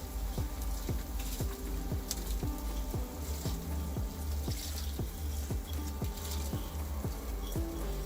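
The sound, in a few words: adding soaked rice to pan for red rice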